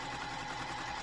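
Sewing machine stitching a quilt block, a steady fast whirring hum that runs continuously and close, with no talk over it.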